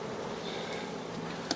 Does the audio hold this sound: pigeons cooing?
no